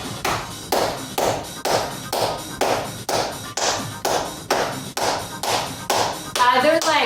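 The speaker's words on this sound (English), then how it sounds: "Clap your hands" Hands clap during a chair workout in a steady, evenly spaced rhythm, about ten sharp claps ringing out close and loud, with a short burst of music at the end.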